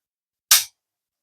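A single sharp metallic clack from an AR-15 rifle action being cycled by hand, one brief close snap standing alone between silence.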